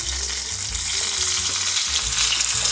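A steak sizzles hard in a frying pan, a dense, steady crackle and hiss of hot fat that fills the whole stretch close up, with a faint low hum beneath.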